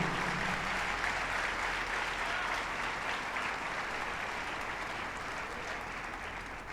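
Loud, sustained applause from a church congregation during a bilingual Spanish-Portuguese service, a steady dense wash of clapping filling the space for the full duration.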